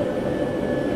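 Steady jet engine roar of a Hürjet trainer aircraft in a flight simulator, a constant loud drone with a thin whine held throughout, heard alone without speech.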